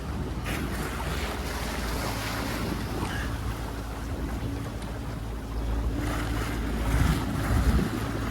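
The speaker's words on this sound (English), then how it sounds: "So sun's out, beautiful day, and engine's off, lovely, and we're having a lovely sail again." A sailboat under sail with the engine off off the coast of Britain, with continuous wind buffeting the microphone and waves washing against the hull, swelling louder toward the end.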